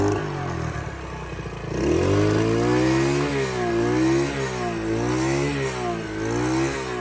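A carburetor-tuned motorcycle engine revs hard from idle, climbing smoothly through repeated rising and falling throttle sweeps without stumbling, loud and close, with no talk.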